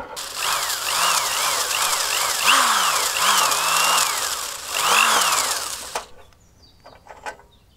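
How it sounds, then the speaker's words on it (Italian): A power drill driving a flexible shaft with a socket adapter whines and grinds with repeated rising and falling pitch sweeps, loud and close, then stops abruptly, leaving faint clinks. "oppure utilizziamo un flessibile col trapano"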